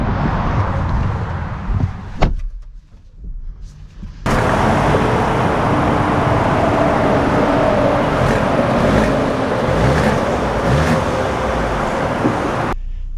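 A 2025 Audi Q7 SUV setting off and driving, with a steady broadband road and engine rumble that rises abruptly after a brief quieter moment and holds loud and continuous, no talking.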